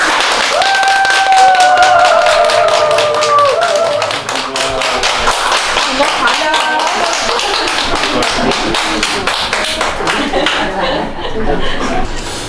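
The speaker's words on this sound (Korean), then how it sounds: "큰 박수" A crowd at a university lecture event claps steadily in dense applause, mixed with chuckles and voices, thinning out toward the end.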